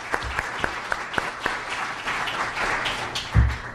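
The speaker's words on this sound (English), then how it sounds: "Can we give them a warm round of applause?" A small audience applauds panelists after a conversation event, with scattered, fairly distinct claps over a light roomy wash and a louder thump near the end.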